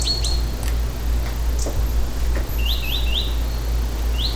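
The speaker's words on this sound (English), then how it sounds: "No talking. Birds chirping." Small birds chirp in short, high tweets, some quick and scattered and a cluster of rising chirps later on, moderately distant over a loud steady low rumble, with no one talking.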